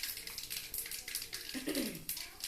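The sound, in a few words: mustard seeds spluttering in hot oil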